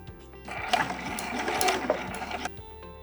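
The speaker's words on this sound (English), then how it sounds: "I'm going to get this opening right under the presser foot and I'm just going to sew it up." A sewing machine runs a straight stitch along the opening of a stretchy fabric headband, its needle chattering in a steady fast whir for about two seconds, close and clear.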